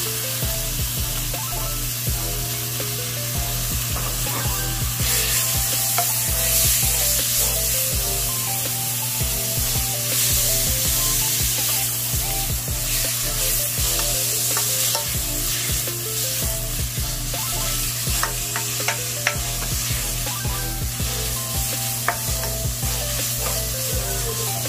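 Ground pork (giniling) seasoned with salt, pepper and oyster sauce sizzles steadily in a pan while being stirred, a continuous close frying hiss with repeated scraping strokes and no talk.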